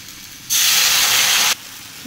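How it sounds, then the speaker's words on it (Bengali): A sharp burst of sizzling hiss as water hits a hot pan of fried fish, loud and steady for about a second, then cutting off abruptly. "এবারে জল দেবো"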